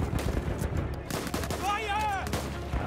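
Gunfire in the video game Battlefield 1, a loud burst of rapid shots and battle noise close up, mixed with other game sounds.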